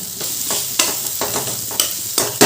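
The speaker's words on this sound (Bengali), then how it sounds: "এবার সব কিছু ভালো করে নাড়াচাড়া করে নেব একটু মাখা মাখা মতন হবে আলুগুলো তাই আমি খুন্তি করে একটু কেটে দিচ্ছি" Boiled potatoes with turmeric being stirred and cut in a pan with a spatula, sharp scraping strokes at a steady pace over a constant close sizzle.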